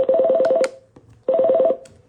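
Two bursts of telephone keypad dialing tones, each a quick run of steady beeps lasting about half a second, separated by a short pause. Loud and close, with no talking.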